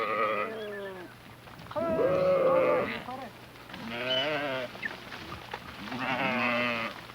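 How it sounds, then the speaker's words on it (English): Sheep and newborn lambs of a migrating flock in the Hindu Kush mountains of Afghanistan bleat in several overlapping bursts, loud and close, with steady low background noise. "he inspects the new lambs before his flock continues its migration to the summer pastures"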